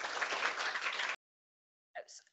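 Audience applause for a speaker at a reading-attainment education event, a dense burst of clapping lasting about a second before cutting off abruptly, followed by a brief faint sound after the silence.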